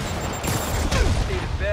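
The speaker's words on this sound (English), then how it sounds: "More rockets? A little excessive, don't you think?" Rapid burst of rocket launches and explosive booms in the Spider-Man video game, with whooshing projectiles overlapping, loud and close, mixed with a voice speaking.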